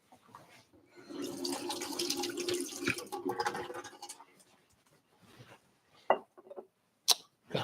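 Water runs from a tap while something is rinsed out, a steady splashing rush for a few seconds that then tapers off. A few short knocks and clinks follow in a quiet room.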